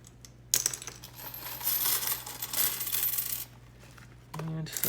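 Several coins spill out of an eBay coin grab bag, a close, bright metallic jingle and clatter of tumbling coins that keeps going for a few seconds before settling.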